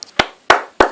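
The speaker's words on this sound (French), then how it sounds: "j'applaudis, je suis obligé d'applaudir" Three single hand claps, close and sharp, spaced slowly and evenly apart with a short gap between each.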